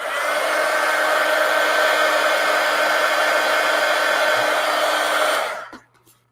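A hair dryer runs steadily at close range, drying paint on a paper collage, its even whirring roar holding for several seconds before cutting off into quiet handling noises.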